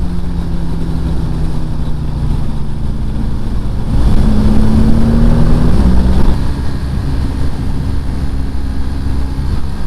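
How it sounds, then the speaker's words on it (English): A motorcycle engine drones steadily on a Tasmanian road ride, swelling louder midway with a rising pitch as it revs, then settling back to a low hum against wind noise. "I'm wondering whose engine I'm hearing."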